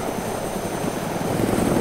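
A helicopter in a video game gives a steady, droning rotor and engine hum at moderate volume, unbroken through the short moment.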